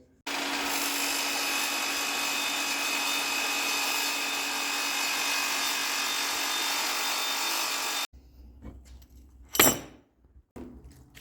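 A saw buzzes continuously through metal ladder bar brackets for about eight seconds, then stops, followed by a few scattered clatters and a sharp scrape.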